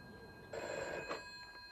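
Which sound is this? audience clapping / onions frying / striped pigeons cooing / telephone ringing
telephone ringing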